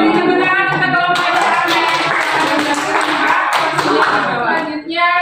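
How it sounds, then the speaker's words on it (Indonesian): Students in a classroom clap for a group of classmates, brisk clapping that swells and then fades, with voices talking over it. "Beri tepuk tangan kita kelompok"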